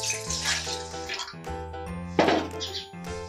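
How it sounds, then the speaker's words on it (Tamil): Water is poured into a tumbler for a pavala malli leaf kashayam, a short splashing pour midway through, with chirpy tonal sounds heard throughout. "இப்போ வந்து நம்ம ஒரு டம்ளர் தண்ணி ஊற்றிக்கலாம்."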